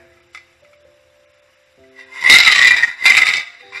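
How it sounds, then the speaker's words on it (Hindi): Glass mixing balls rattle inside an aerosol spray paint can, two bursts of close, loud shaking clatter after a quiet stretch. "ये जो आवाज आपको आ रही है बोतल में से, जो कि हर बोतल के अंदर आती है, इसके अंदर कांच की गोलियां डाली जाती हैं, ये उनकी आवाज है।"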